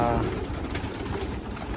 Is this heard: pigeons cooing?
yes